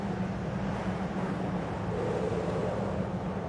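Steady wind blowing through the high, empty reaches of the Roof of the World in the video game AER: Memories of Old, a continuous soft whooshing rush with no music, even and unbroken throughout.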